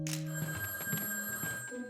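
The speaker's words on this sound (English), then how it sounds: "Someone's got to answer that phone." A telephone bell rings in quick, trilling bursts, clear and fairly close, in a cartoon setting with no talking over it.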